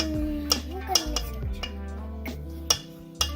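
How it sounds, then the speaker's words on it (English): A spoon clinks and scrapes against a mixing bowl while vanilla is stirred into oatmeal raisin pecan cookie dough, with several sharp metallic knocks in an uneven rhythm over a faint background hum. "Now we're mixing in the vanilla."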